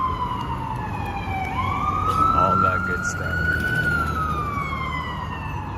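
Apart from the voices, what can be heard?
ambulance siren in Manhattan, New York City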